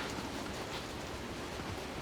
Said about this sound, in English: How is it raining in here?